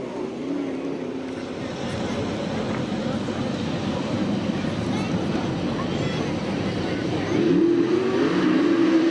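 USAC/CRA sprint cars racing at Santa Maria, California, a steady loud engine roar filling the whole stretch, swelling louder near the end, with a commentator's voice running over it.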